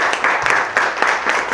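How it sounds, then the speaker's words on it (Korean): Brief burst of audience applause at a morning business networking meeting, a fairly dense patter of hands clapping that rises and falls over a couple of seconds in a room. "서로에게 박수 한번 쳐주시죠"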